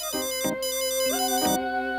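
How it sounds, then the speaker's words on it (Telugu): Mobile phone ringtone playing a quick melodic electronic tune, several bright note bursts in a steady rhythm, loud and close with no talking. "రేయ్ ఫోన్ వస్తుంది చూడరా."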